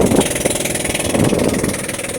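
Engine of a small boat running steady and loud through a narrow shortcut channel between Busuanga and Coron in Palawan, a continuous rumbling drone with no pauses.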